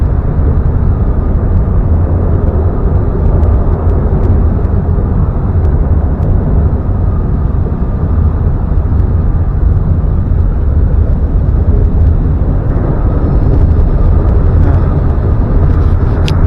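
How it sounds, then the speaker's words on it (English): A continuous low rumble of vehicles passing to and fro over a bridge above the East River, heavy and steady throughout with no talking. "The rumbles you hear are from vehicles passing to and fro."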